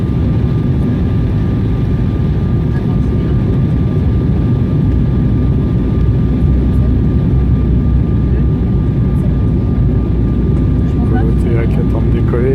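An airplane idles while waiting to take off, giving a steady, loud engine drone throughout with no clear breaks, heard close by.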